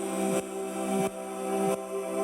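Vox Synth Gaze synth patch pitched down two semitones, a thick sustained chord pulsing in slow, regular swells about every 0.65 seconds, heard alone and fairly loud.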